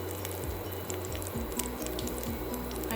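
Chopped onion and garlic tossed into a pan of hot avocado oil for Southern collard greens, giving a steady close-up wet sizzle with soft crackle and squish throughout.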